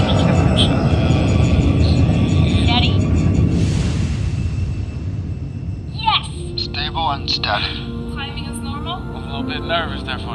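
Aircraft Phoenix 1 taking off in a sci-fi drama, a loud broadband engine roar swelling through the first half, then easing as synthesized radio chirps and bleeps take over; people talk over it.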